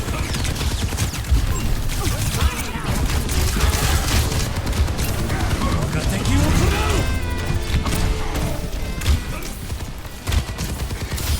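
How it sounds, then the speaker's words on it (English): Rapid gunfire and impact crashes from a multiplayer shooter video game with Reinhardt on the enemy team, a dense, continuous barrage of shots and smashes that keeps up throughout with talk mixed in. "Stop shooting me, soldier!"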